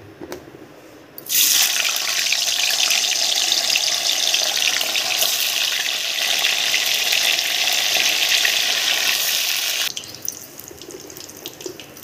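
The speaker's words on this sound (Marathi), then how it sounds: "तेल तापलेलं आहे, आधी पनीर टाकूया।" Paneer dropped into hot oil sets off a sudden loud, steady sizzle that holds for about nine seconds before cutting back to quiet, close up with no talking.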